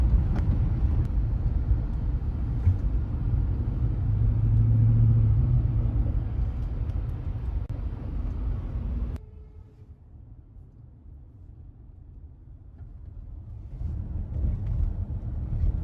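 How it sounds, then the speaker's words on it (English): Steady city traffic rumble in the Los Angeles garment district, loud and continuous for the first nine seconds, then dropping to a quieter hum before building again near the end. "But a lot of traffic here"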